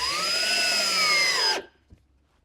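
A power drill drives a coated screw into a wooden Langstroth beehive box, a steady whining motor for about a second and a half that stops abruptly, followed by a small knock.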